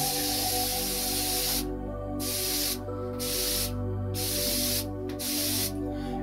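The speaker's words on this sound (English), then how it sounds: "So I take this and mist" A Caudalie grape water facial mist sprayed close up in several quick hissing bursts, each separated by a brief pause, over a steady low background hum.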